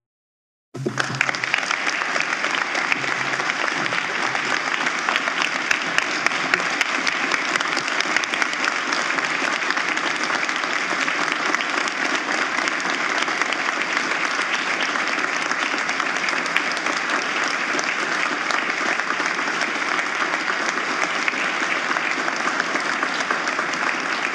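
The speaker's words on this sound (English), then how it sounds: "another big round of applause for our Chief Justice C." A large audience applauds Chief Justice C. Shannon Bacon after her State of the Judiciary address, a loud, steady wall of clapping that begins abruptly and holds for over twenty seconds.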